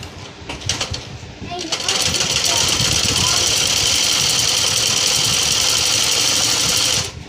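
A sewing machine runs stitching a frock seam, a few short starts at first, then a fast continuous whirring rattle held for several seconds before it stops.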